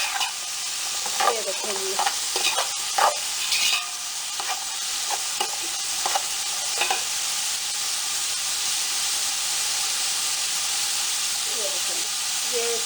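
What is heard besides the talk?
vegetables stir-frying on high flame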